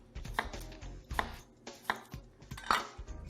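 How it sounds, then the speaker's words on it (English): A knife roughly chopping seedless vegetables for gazpacho on a cutting board: four distinct, fairly crisp chops spaced about a second apart, close and clear with quiet gaps between, no talking. "So I'm just going to give that the same treatment, just a rough chop."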